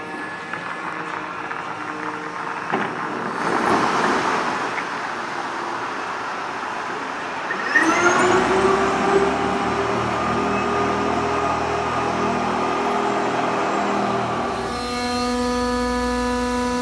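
Ice resurfacing truck engine cranks and starts after a few seconds of mechanical noise, then settles into a steady, fairly loud mid-pitched idle that continues running close by in a maintenance garage.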